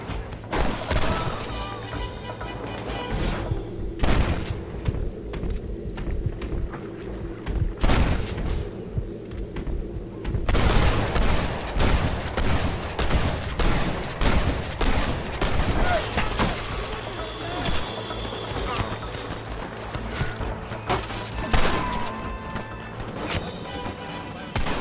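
A Red Dead Redemption shootout fills the air with repeated sharp gunshots and volleys, some close and loud, others scattered. The firing comes in bursts and runs continuously over background noise and occasional shouting.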